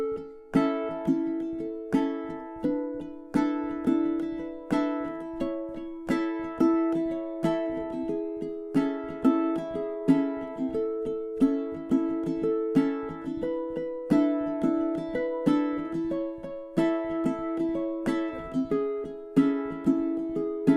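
Close, clear ukulele chord progression strummed with shifting patterns, lively accented strokes and varied rhythms flowing continuously for a long stretch without talk.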